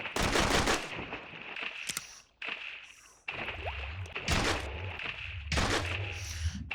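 Rapid automatic gunfire in the video game Psycho Patrol R, dense bursts of shots with short pauses between them, loud and close, with no talking over it.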